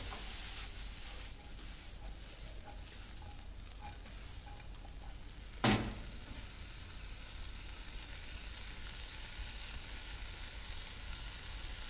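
Green beans fry in a pan with a steady close sizzle throughout, broken by one sharp knock or clatter about halfway, and no one speaks.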